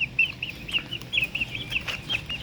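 Backyard chicks peep in a rapid, high-pitched chorus of repeated chirps, close and steady throughout with no talk.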